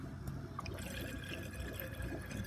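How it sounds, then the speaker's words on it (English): Water trickles and gurgles steadily through a hydroponic grow channel, flowing down the length, wrapping around the end and draining out, a soft continuous close-up burble with faint drips. "Water flows all the way down, then wraps around the end, comes back and drains out here."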